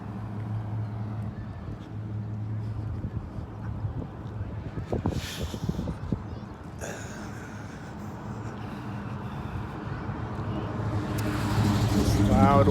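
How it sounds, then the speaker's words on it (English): A loud white car drives past close by on a street, its rushing engine and tire noise swelling toward the end over gusts of wind buffeting the microphone. "Loud white car with the white SUV driving in front of me at the same time."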